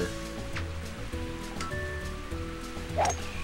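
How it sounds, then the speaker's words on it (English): Steady hiss of wind and rain in Mario Golf on the Nintendo 64, a continuous wash of weather noise under the game's tonal background music, with a brief brighter chirp near the end and no talking. "starting off immediately with wind and rain."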